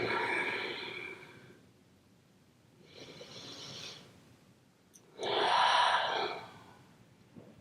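Deep belly breathing during a yoga session: three slow, close breaths, each lasting about a second, separated by quiet pauses, with the last one loudest.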